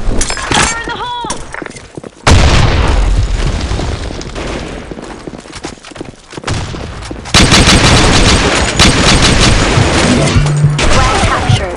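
Explosion and gunfire in the Blackshot online shooter game: loud booms and rapid bursts of shots, with chaotic crashing stretches broken by short quieter gaps.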